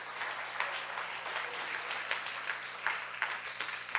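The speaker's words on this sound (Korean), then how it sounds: "네, 박수 한번 부탁드릴게요." A church congregation gives a round of applause after worship singers perform, even, continuous clapping heard at moderate distance in a large room, with a low steady hum beneath.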